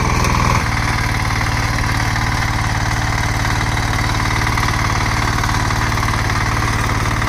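Diesel power tiller engine, called a tractor, running steadily while ploughing a field in the Konkan for ragi sowing, with a loud, even idling-like chug that goes on after a brief change in the first half second.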